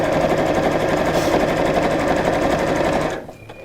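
A sewing machine stitches fabric in a steady, loud, rapid mechanical whirr that runs continuously, then stops abruptly near the end, leaving quiet room tone.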